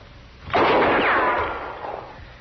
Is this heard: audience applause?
no